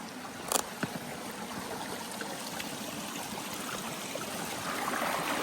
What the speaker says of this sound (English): Oh, very cool water feature.